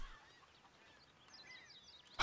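Chickens at a coop in the video game Red Dead Redemption 2 let out a few faint honking clucks over a quiet background, ending with a short loud burst.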